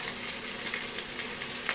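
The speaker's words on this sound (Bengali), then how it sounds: "প্রথমে কিছুক্ষণ একটানা খুন্তি দিয়ে এভাবে আলু এবং ঝিঙে নাড়াচাড়া করে ভাজার পরে" Potato and ridge gourd pieces fry in a pan with a dense, steady sizzle and faint spatula scrapes, close up and with no voices.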